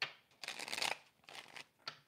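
A tarot deck being cut and riffled, with several quick papery bursts of card shuffling close by, the longest in the middle, then shorter flicks, no speech.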